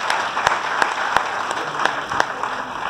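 Audience applause at a college event honoring an IIT professor, a steady roomful of clapping with a few sharper, closer individual claps standing out over the wash.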